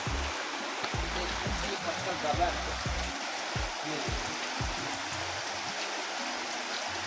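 River water flows close by in a steady, broadband rush that fills the whole clip, with a few low thumps and bumps mixed in near the bank.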